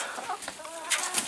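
Backyard chickens cluck in a short burst, several close calls overlapping briefly with no talk.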